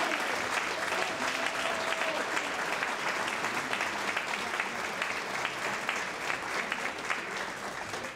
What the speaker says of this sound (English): I would ask again for a round of applause for our honorees